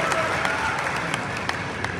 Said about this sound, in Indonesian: Kita beri tepuk tangan Pak Nurdin.